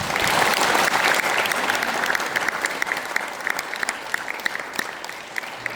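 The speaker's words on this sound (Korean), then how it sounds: "지금부터 민주평화통일 자문회의 전주시의회 2026년 2분기 정기회의를 뜨거운 박수로 시작하겠습니다." A seated assembly claps warmly to open a quarterly regular meeting of the Jeonju council of the Peaceful Unification Advisory Council, dense sustained applause that gradually thins and softens toward the end.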